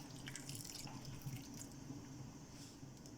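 Water poured into a bowl of chicken shami kabab mixture with ginger-garlic-green chilli paste, a soft, steady splashing trickle with faint drips, quiet and close, no talking.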